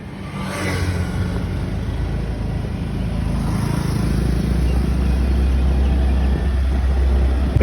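A Yamaha Ray ZR 125 scooter engine runs steadily on a test drive, a loud, continuous hum with low rumble that builds slightly and holds even throughout.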